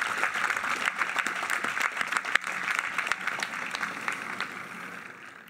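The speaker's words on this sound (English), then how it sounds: "Please join me in a round of applause for these people whose effort made tonight possible" An audience at a high school graduation ceremony applauds in a large hall, sustained moderately distant clapping with scattered sharp claps that slowly fades toward the end.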